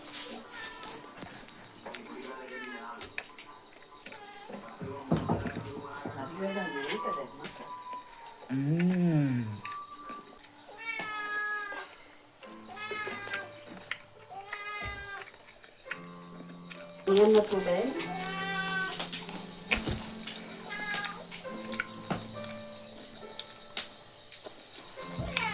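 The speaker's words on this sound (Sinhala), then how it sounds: "පූස් නෑව් ගානවා." Cats meow repeatedly with rising and falling cries that come and go across the stretch, mixed with a person talking during a home food review.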